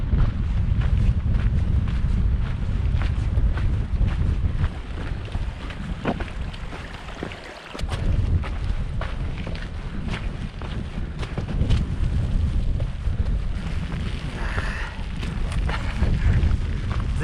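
Strong wind buffets the microphone on a Cairngorms mountainside, a loud continuous roar with gusts that briefly ease partway through before building again, with no voices.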